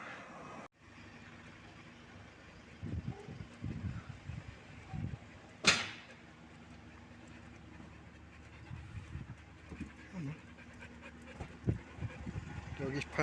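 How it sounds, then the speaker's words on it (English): A dog pants in quick, breathy bursts on a warm seafront walk in La Mata, close by over a steady outdoor hum, with one sharp click partway through. "Dog is panting away in the heat."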